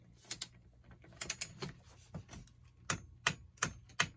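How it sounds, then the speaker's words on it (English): A torque wrench set to 50 Newton meters clicks repeatedly while tightening a RaceFace bottom bracket on a bicycle, giving a series of sharp, close ratcheting clicks in uneven bursts with no voices. "You can hear the wrench break,"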